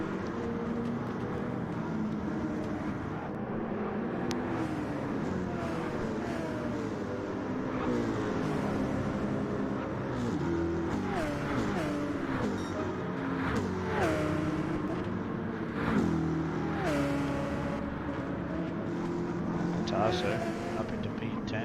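V8 Supercars race cars on track, engines droning and shifting pitch as they run in line, with a commentator talking over the continuous engine noise.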